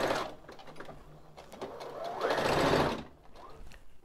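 A sewing machine stitches a half-inch seam around the outside of a mesh bag, a steady mechanical whir that swells louder in the middle before easing back down, with no talking.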